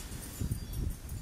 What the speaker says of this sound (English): Oh my gosh, it's really windy.